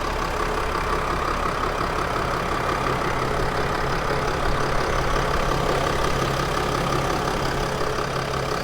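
A 2015 Mercedes-Benz Sprinter 2500 van engine idles steadily and evenly, a continuous close-up rumble with a faint mechanical tick and no talk over it.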